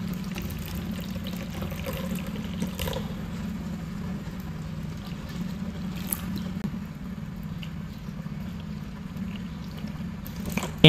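Water is poured into containers in a steady, low splashing pour that continues throughout, close and alone without talk.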